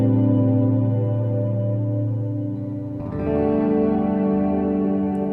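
An effected electric guitar sample rings out sustained chords washed in chorus and reverb, starting on a major 7th chord and shifting to a new chord about halfway through, with no voices.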